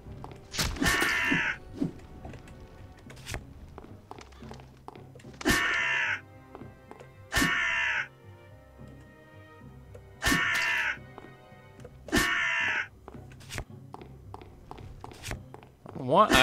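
A crow in the video game UnEpic caws repeatedly in short harsh bursts, about five distinct calls spread across the stretch, alongside game footsteps and thuds while someone talks over it.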